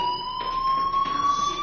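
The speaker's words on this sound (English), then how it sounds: "Hey, do you hear that fire alarm?" A fire alarm in a PS4 video game sounds a continuous high electronic tone that slowly rises in pitch, steady and fairly loud with no talk.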